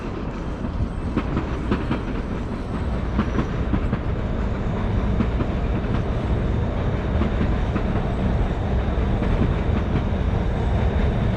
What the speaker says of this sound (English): And here comes a Red Line train now.